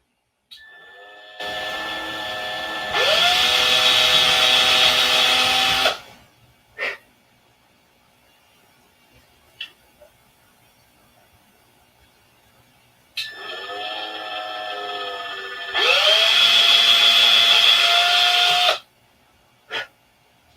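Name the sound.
power drill drilling through both pieces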